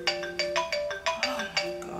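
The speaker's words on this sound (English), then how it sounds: "I'm not answering the phone." A phone ringtone plays a repeating melodic pattern of bright electronic tones, steady and moderately loud, with no talking over it.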